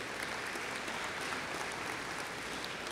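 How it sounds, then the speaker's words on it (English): Applause from an audience at a school athletics hall of honor awards night, a steady wash of clapping that carries on without a break and fills the room, with no voices standing out above it. "Let's give them a round of applause."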